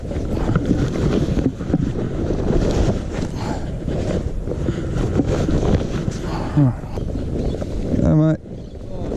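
Winter wind blows hard across the Hawkesbury River, buffeting the microphone in a loud, continuous rush over water and boat noise, with a person talking partway through.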